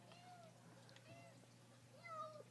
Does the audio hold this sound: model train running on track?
no